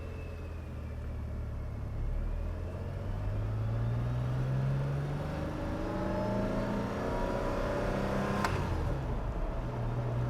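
A 1981 DeLorean pulls away in first gear, its engine note rising steadily from a low rumble into a swelling roar, heard close and without talk.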